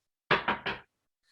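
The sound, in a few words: knock on a door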